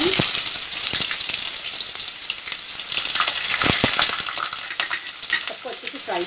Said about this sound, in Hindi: सबको अच्छे से फ्राई कर लेंगे